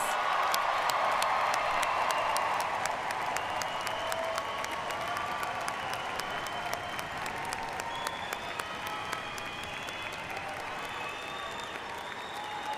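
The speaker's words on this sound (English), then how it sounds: "let's give them another round of applause" Commencement audience at a College of Health and Human Sciences ceremony applauds in a dense, sustained ovation with scattered cheers, loud at first and gradually easing while continuing steadily throughout.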